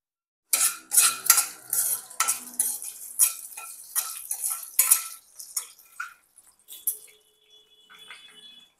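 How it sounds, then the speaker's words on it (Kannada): Biryani spices and kasuri methi frying on low flame in a pot, with a spoon stirring and scraping in loud, close, rhythmic strokes over a light sizzle that fades to near quiet at the end. "ಇದೆಲ್ಲ ಲೋ ಸಿಮ್ಮಲ್ಲೇ ಇಟ್ಟು ನಾವು ಫ್ರೈ ಮಾಡಬೇಕು."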